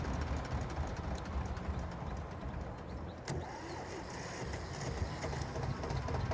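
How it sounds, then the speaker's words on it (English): A 1978 Antonio Carraro tractor engine idles in Farming Simulator 22, holding a steady, even drone from start to finish with a brief click near the middle. "Love that engine sound."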